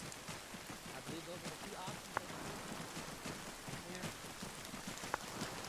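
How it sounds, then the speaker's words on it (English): Steady hiss of rain falling in the video game Arma, a constant wash with a couple of sharp clicks, under quiet speech. "Hopefully the rain will cover our approach a little."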